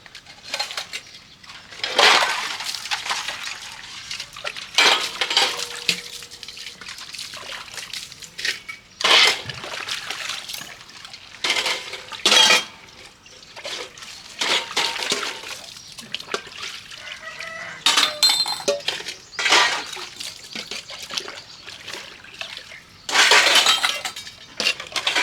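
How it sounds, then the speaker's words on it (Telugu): Large metal pots and vessels being washed by hand in a village, with repeated loud clanks, scrubbing and splashing water in irregular bursts throughout. "ఇవాళ కడిగిన ఇవన్నీ కడిగిన పెద్ద పెద్ద గిన్నెలన్నీ కడిగినాయి"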